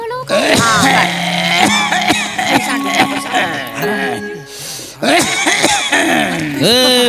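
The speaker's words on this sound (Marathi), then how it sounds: "खोकला लागलाय हो" A man coughs and clears his throat repeatedly in rough, gravelly bursts, with voiced grunting sounds between them.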